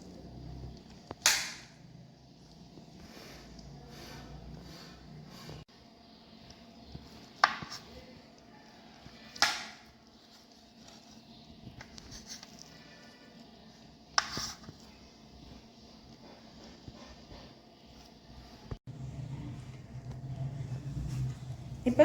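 A knife cuts through boiled eggs on a board while slices are prepared for egg chukka, giving a handful of sharp, spaced taps against quiet kitchen background noise.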